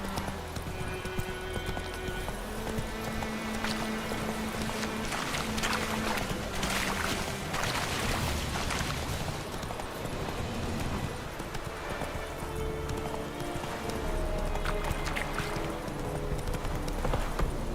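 Horse galloping in The Witcher 3, a steady clip-clop of hooves running continuously over a dense game backdrop of ambient sound and music.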